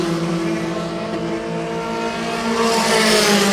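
Formula 4 race cars on the last lap of a Southeast Asia championship race, engines droning and revving steadily, building louder as a car closes in near the end.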